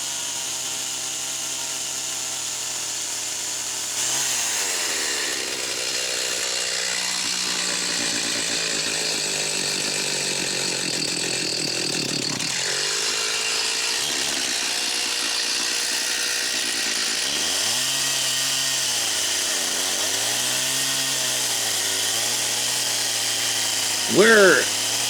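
A chainsaw cuts dados into logs for log stringers and tenons on a remote tiny house build, its engine whine steady and close for most of the stretch, rising and bogging with the cut, while a narrator talks over it.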